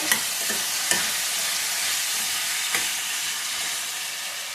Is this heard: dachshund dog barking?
no